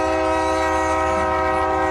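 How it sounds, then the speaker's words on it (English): A train heading toward the Devil's Throat at Iguazu Falls sounds a loud, sustained horn-like tone with steady rolling rail noise underneath, continuous throughout. "We then all took the train towards the most iconic part of Iguazu Falls, the Devil's Throat."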